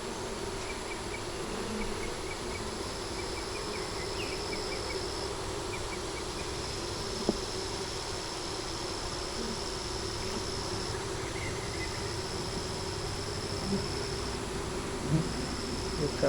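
Honey bees swarm around an open hive whose queen is not laying properly. Their dense buzz is steady and continuous, with faint clicks and knocks from handling the hive, and no voices.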